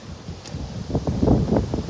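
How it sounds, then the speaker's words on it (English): Wind gusts buffet the microphone outdoors, a low rumbling rush that swells louder toward the end. "It's windy today."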